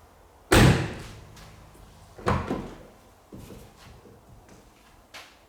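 The trunk lid of a Mercedes 300D Turbo Diesel slams shut with one loud, solid thud, followed by a second softer closing thump and faint handling noises in a quiet space.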